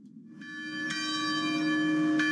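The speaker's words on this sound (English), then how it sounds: "Bells ringing 21 times in Uvalde, Texas" A church bell in Uvalde, Texas rings out in memorial, its tone sustaining and swelling, with a second strike near the end, heard alone without voices.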